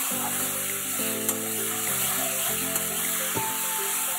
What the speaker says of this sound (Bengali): আবারও এটাকে ভালো করে কষিয়ে নেব কসুরি মেথি দিয়ে